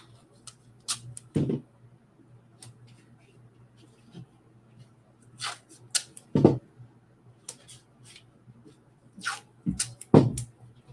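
Paper artwork being cut out for a 5x7 piece, a few short snipping and rustling bursts spaced apart, close by, with a faint steady hum underneath and no voices.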